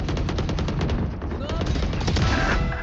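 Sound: gunfire in a battle royale video game

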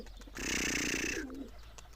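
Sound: pigeon cooing

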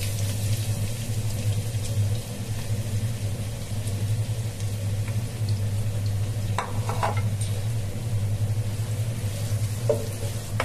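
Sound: onions frying in hot oil

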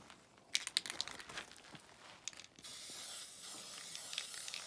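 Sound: spray painting a model rocket

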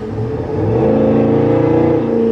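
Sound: SUV aftermarket exhaust roaring while accelerating

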